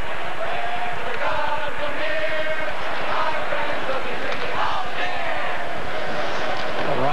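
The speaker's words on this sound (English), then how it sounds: "The crowd's singing." Hockey arena crowd at the Frozen Four final, Minnesota Duluth versus Notre Dame, singing a beer-drinking song together, a dense sustained chant of many voices filling the building under a steady murmur for several seconds.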